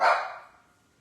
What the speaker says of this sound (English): You probably will hear my puppy barking.